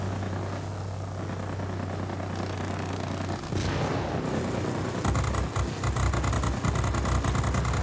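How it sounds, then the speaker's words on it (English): Gunfire from aircraft in the World of Warplanes video game, with a steady engine drone giving way to rapid, continuous machine-gun bursts that grow louder and denser over the second half, with no talking. "Who's shooting at me?"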